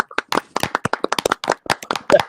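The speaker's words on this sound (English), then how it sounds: "Clap." Several people clap in a quick, uneven burst of separate sharp hand claps, fairly close and loud, with no talking over them.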